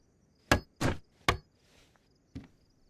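Hammer blows in a video game while a wooden door frame is built: four sharp, close knocks in an uneven rhythm, the second slightly longer, with a fainter thump after a pause.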